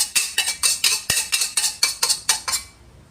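Plate and serving utensils clink while stir-fried broccoli with pork belly is dished up, about a dozen evenly spaced metallic taps and scrapes close by, then stopping.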